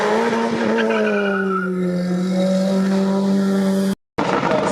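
A race car at the Saint-Gouéno hill climb screams past with a loud, sustained high-revving engine note whose pitch slowly falls, ending in a brief cutoff before the roar resumes.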